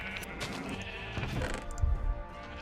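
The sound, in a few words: sheep bleating in Minecraft video game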